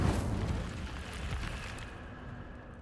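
An Incendio fire spell cast in the Hogwarts Legacy video game gives a loud, roaring burst of flame. It whooshes at full strength at once and then thins out over about three seconds.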